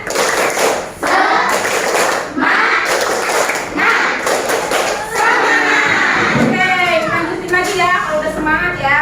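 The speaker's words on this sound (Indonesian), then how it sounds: "Oke, tepuk semangat." A class of sixth-grade pupils claps a rhythmic group cheer in a primary classroom, patterned bursts of hand claps and thumps mixed with children's voices chanting along, loud and close throughout.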